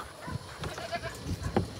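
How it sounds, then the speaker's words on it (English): Goats bleating on a farm, several short calls close by with animal shuffling and bumps between them, no talking. "These are my goats that I practice on."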